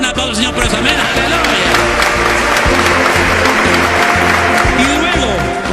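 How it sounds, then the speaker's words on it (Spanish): A church congregation applauds in a dense, sustained wash of clapping that fills the whole clip, loud and close, with music and voices mixed in underneath. "Da un aplauso, Señor, por eso."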